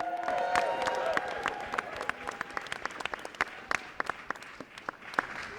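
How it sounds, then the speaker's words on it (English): Applause at a press conference where Washington's millionaires tax is signed, with a crowd clapping at first, then thinning to scattered individual claps by the end. "give all of them a big round of applause"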